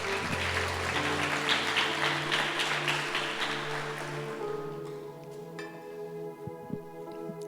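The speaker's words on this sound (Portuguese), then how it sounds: "dê um forte aplauso ao Senhor." A church congregation gives a strong round of applause at a worship service, dense clapping for about four seconds that then fades out, leaving sustained organ or keyboard tones and a few scattered claps.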